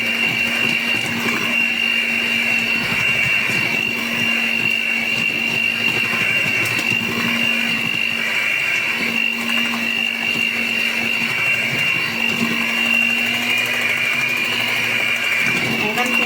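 An electric mixer whirs steadily through vanilla cake batter, a continuous loud motor drone with a sustained hum that never pauses, while a person speaks over it.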